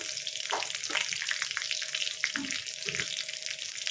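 Green chillies and panch phoron crackling in hot oil for a potato and bitter gourd curry, a bright continuous sizzle with sharp pops and spits scattered throughout, close and fairly loud.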